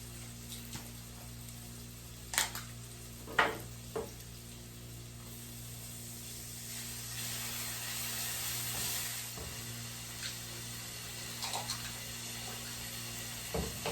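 Garlic sizzles in a pan of butter and sun-dried tomatoes for a vegetarian pasta, giving a steady faint frying hiss with a few sharper pops and spatters from stirring.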